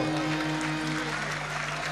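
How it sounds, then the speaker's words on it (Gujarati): A live audience at a Gujarati dayro folk program in Jamnagar claps in a dense, sustained wash of applause over a low steady hum, with no clear breaks across the short stretch. "અરે વાહ વાહ, જોરદાર તાળીઓથી વધાવો"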